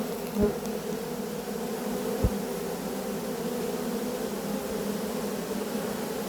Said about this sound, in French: toutes ces abeilles donc rappellent les autres